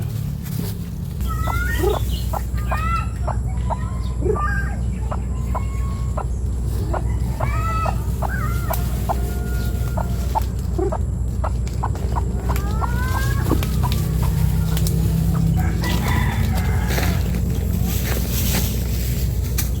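A chicken near a simple homemade rope trap clucks and calls repeatedly with short bursts, the birdsong standing out clearly above a steady low background rumble, no talking.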